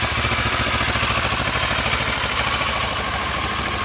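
A 2009 Kawasaki Versys 650 motorcycle engine idles steadily up close, a fast even rumble with a gritty buzz that holds constant for several seconds, with no voices over it.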